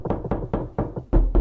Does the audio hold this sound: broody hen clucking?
no